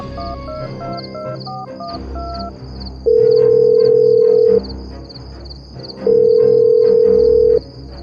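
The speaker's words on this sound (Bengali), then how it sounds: "তারপর ফোন করে অনিমেষকে।" A steady telephone tone sounds in two long, loud beeps separated by a pause, over soft background music.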